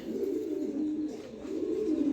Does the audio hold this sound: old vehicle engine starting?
no